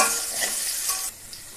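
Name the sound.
potatoes frying in oil in a pan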